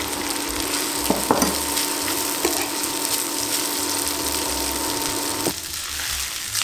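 Rice tossed into melted butter in a frying pan sizzles with a steady, loud crackle, with brief stirring scrapes near the start.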